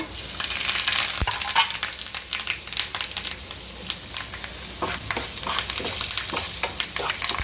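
Dried red chillies and curry leaves crackle and sizzle with chana dal in hot oil while cooking pineapple gojju, a steady loud frying hiss with sharp pops throughout and no talking.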